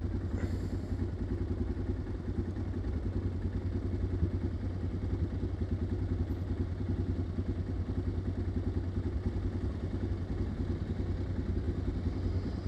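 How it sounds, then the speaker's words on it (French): Motorcycle engine braking on the road, a loud, steady mechanical drone with rattling clatter that holds close and constant throughout, with no talk over it. "le frein moteur des enfers"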